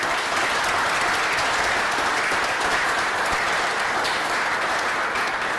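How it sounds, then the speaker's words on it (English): A crowd at a celebration of progress on a new Ohio State University research facility breaks into loud, sustained applause, a steady wash of clapping with no speech over it. "And I think that deserves a huge round of applause."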